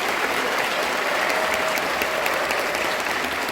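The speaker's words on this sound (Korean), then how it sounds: "큰 박수로 환영해 주십시오." Audience applause fills the hall at the eve ceremony of the 29th Bucheon International Fantastic Film Festival, a dense, steady roar of many hands clapping close and loud throughout, with no one speaking over it.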